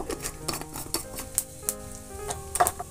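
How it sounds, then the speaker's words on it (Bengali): Whole cumin seeds sizzle in hot oil for tempering for a Bengali baingan bharta, close crackles and scattered pops with some stirring clinks over a steady frying hiss, no talk. "একটু গোটা জিরে ফোড়নে দেব"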